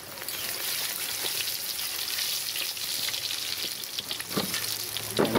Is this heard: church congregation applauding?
no